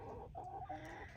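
A backyard chicken, a spare hen that came with a batch of meat chickens, clucks softly and repeatedly at close range over a steady low outdoor rumble, with no voices.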